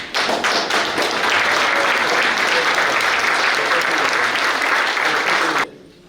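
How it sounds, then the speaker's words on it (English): A standing audience at a book release event gives thunderous applause: loud, dense clapping from a large crowd that holds steady for several seconds and then stops abruptly. "I want all of you to stand up and give Stephan a thunderous applause"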